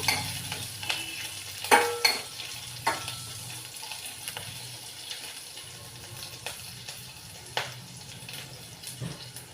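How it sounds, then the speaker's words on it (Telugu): Green chillies and dried red chillies fry in a pan with a quiet, steady sizzle, broken by scattered utensil scrapes and clicks as they are stirred, close up and without speech. "పచ్చిమిర్చి ఒక నాలుగు తీసుకున్నానండి ఎండుమిర్చి ఒక రెండు తీసుకున్నాను కారం మీ టేస్ట్ తగ్గట్టుగా మీరు వేసుకోండి ఇవి వేగాలి కొంచెం"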